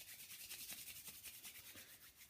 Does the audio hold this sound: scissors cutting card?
no